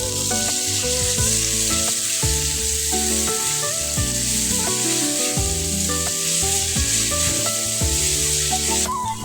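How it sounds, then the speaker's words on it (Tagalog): Ginger and garlic sauté in a frying pan for squid adobo, a loud, continuous sizzle with occasional stirring scrapes, heard over background music. "igisa ang luya hanggang sa lumabas ang kanyang aroma. Sunod naman ay bawang."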